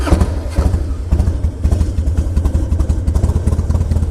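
A carbureted Harley-Davidson Heritage Softail motorcycle engine runs close by with a loud, lumpy, pulsing idle, an uneven rhythmic thumping throughout with no clear starter crank.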